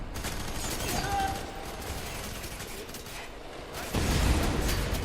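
Dense gunfire and explosions from the video game F.E.A.R. 3 rumble continuously, with a sharper burst of blasts near the end.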